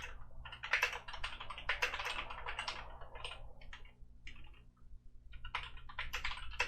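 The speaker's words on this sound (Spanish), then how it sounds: "Os voy a dejar algunos segundos de sonido para que veáis el sonido de las teclas." Typing on a MAIBENBEN Bluetooth mechanical keyboard, rapid close clacking keystrokes in dense bursts with a short pause midway, no talking.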